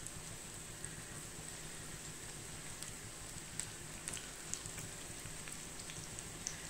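Pinched bits of snack dough fry in hot oil, a steady dense sizzle and crackle with occasional sharper pops, alone and fairly quiet throughout.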